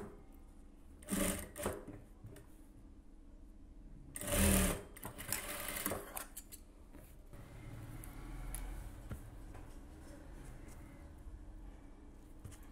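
A sewing machine stitching a silk cotton blouse runs in short whirring bursts, with a longer loud run midway and quiet handling between.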